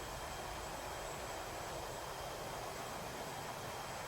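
F-18 Hornet jets take off in DCS World, their engines a steady, broadband roar that holds constant and loud throughout, with no voices.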